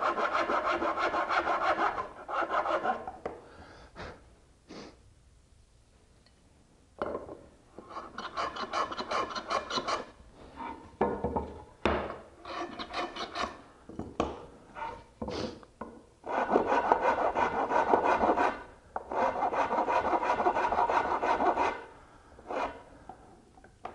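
A hand rasp shapes a wooden part in repeated back-and-forth strokes, coarse scraping bursts close up, separated by short pauses, with no talking.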